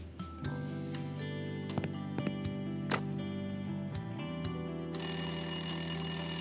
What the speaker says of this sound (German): Ah, da klingelt das Telefon.